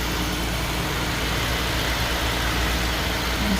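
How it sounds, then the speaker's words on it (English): A 2023 Ram 1500 pickup truck idles steadily with a low, continuous engine rumble and even tone, heard alone and close for a few seconds. "Alright, so we are going to fire up the truck."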